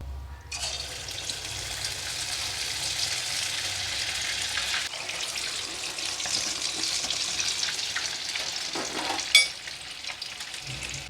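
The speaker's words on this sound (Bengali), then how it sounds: "কড়ার তেল গরম হয়ে গেছে, এবারে আমি আঁচটা কমিয়ে দিলাম, দিয়ে কাবাবগুলো ভেজে নেব।" Masala noodle kebabs fry in hot oil in a kadai over lowered heat, giving a steady, close, fairly loud sizzle and crackle that runs the whole way through, with a brief louder pop near the end and no talking.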